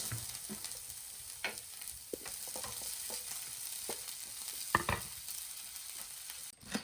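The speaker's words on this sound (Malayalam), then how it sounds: "നമ്മളെ ചെറിയുള്ളിയൊക്കെ നന്നായിട്ട് ചമ ചമന്ന് വന്നിട്ടുണ്ട്" Small shallots frying in a pan, a quiet, even sizzle broken by scattered scrapes and clinks of a spoon stirring, with no voices.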